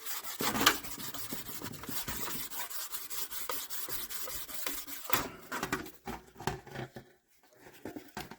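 Steel wool scrubs a part on a 1964 Comet that sat for 23 years, giving a close, continuous scratchy rubbing with a few sharper strokes before tapering into quieter, broken scraping.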